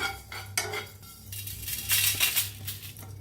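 Fennel seeds, coriander seeds and cardamom dry-roasting in a kadai, a few sharp metal clinks and scrapes of a spoon stirring them over a faint steady hiss, close and fairly loud.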